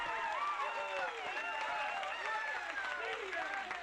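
Canned applause from a soundboard on a talk show plays as a short, dense burst of clapping and crowd cheering, fairly quiet and steady throughout.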